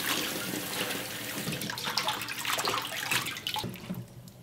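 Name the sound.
washing cabbage leaves under running tap water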